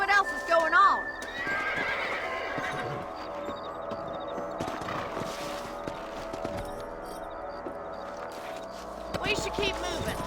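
Horses whinny and hooves clip-clop steadily along in the video game Red Dead Redemption, with voices talking over the ride.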